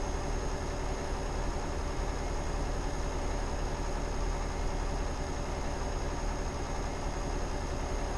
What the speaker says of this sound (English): listen to the hypnotic rumble of the Volvo engine.